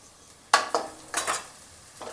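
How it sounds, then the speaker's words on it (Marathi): A spoon of ginger garlic paste is stirred into browned onions in a pan for Maharashtrian-style rajma masala: several short, close scraping strokes over a faint sizzle. "आपण याच्यामध्ये 1 चमचा आले लसणाची पेस्ट घालतोय"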